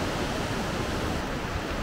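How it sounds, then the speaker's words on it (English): Switzerland's second-highest waterfall, heard as a dense, constant roar of falling water that stays loud and steady with no pauses. "Switzerland's second highest waterfall."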